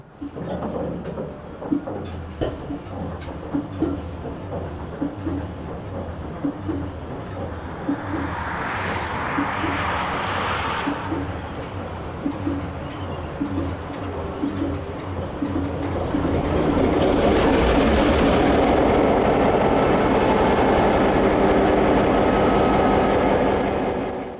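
A Washington, Idaho & Montana Railway locomotive, number 1838, starting up at a mill: a rhythmic diesel rumble that swells after a quarter of the way in and grows louder and broader toward the end, with no talking.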